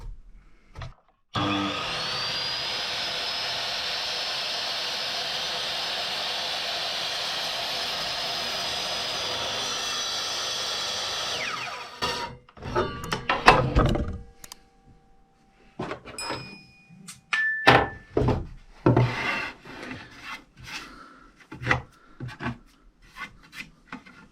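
A HiKOKI (Hitachi) C8FSHG miter saw cuts wood with a loud, sustained whining roar lasting about ten seconds, followed by clattering knocks and handling sounds as the piece is moved.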